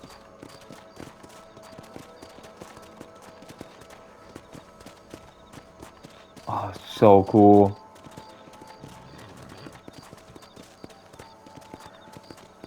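Horse hooves clip-clopping in the Red Dead Redemption video game, a brief burst of steady hoofbeats amid quiet game ambience, with someone talking over part of it.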